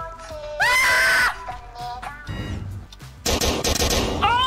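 Game gunfire in the Roblox Squid Game, shots crackling in short loud bursts mixed with bright electronic game tones and effects, with no talk over it.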